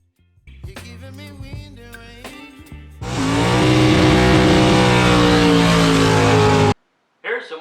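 Drag racing cars at a dragway roar nearby, the engines revving and climbing in pitch as they pull away, with a dense, loud full-throttle blast before cutting off suddenly; a voice is heard talking early on.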